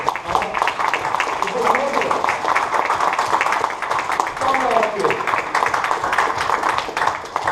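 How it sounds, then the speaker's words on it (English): A lecture audience claps at the end of a leadership talk, steady dense applause lasting several seconds, with voices and some cheering audible through it. "I think you guys have to applaud yourselves for being attentive."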